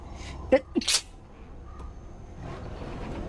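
A single close, sharp sneeze breaks out, preceded by a short intake of breath, and then quiet room ambience settles in with a faint murmur afterward.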